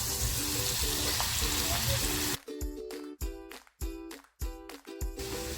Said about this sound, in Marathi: पॅन तापत ठेवलाय तेल तापत ठेवलंय अगोदर यांना लसूण टाकून घेते